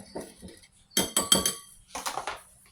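Rice flour batter with baking powder for bibingka being stirred in a bowl, bursts of quick metallic clinks and scrapes of a utensil against the side in short rhythmic runs, close and clear.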